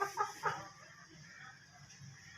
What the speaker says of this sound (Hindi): बहुत ही प्यारा वाइट कलर में सिंधी मुर्गा जो है मौजूद है